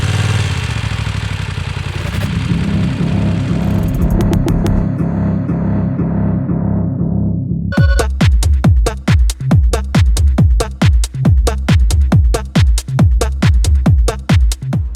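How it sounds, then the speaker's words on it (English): A motorbike engine recorded right beside the exhaust first drones in a dense rumble, then drops into a slow, loud, rhythmic chugging of distinct pulsing putts, very close and alone. "I'm gonna sample my motorbike to create an epic Rise FX."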